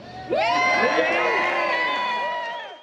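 A protest crowd in Brisbane before the March for Australia cheers and shouts loudly together in one sustained roar lasting a few seconds, with whoops rising above the mass of voices.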